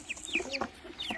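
Brahma chickens held inside a cardboard carton give a few quick, close clucks and squeaky short calls in rapid succession.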